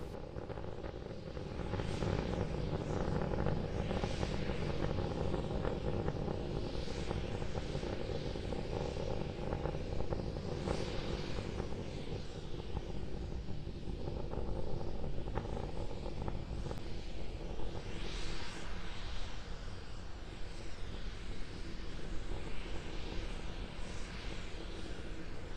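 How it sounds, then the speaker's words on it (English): Starship rocket engines firing during a high-altitude test flight in the Spaceflight Simulator game, a steady roaring rumble that holds constant and fairly loud for the whole stretch, with no voices. "we're getting ready to transition from 3 engines to 2 engines firing on Starship"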